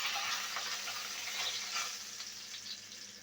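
Bay leaves dropped into hot oil for a vegetarian potato and papaya curry, sizzling in a loud, steady hiss that slowly fades, close up, with no talking.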